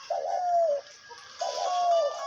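A captive hunting dove (ghughu), kept as a decoy bird, gives two clear, close cooing calls, each a soft rolling coo sliding into a drawn-out note, separated by a brief pause.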